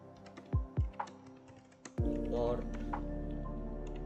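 Keys clatter on a computer keyboard while switch port security commands for a network switch are entered, a few sharp close taps followed by a steadier run of clicking over a low hum.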